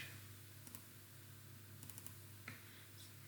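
Typing on a computer keyboard while working in an Excel spreadsheet, sparse light key clicks in small clusters over a low steady hum, quiet and close, with no talking.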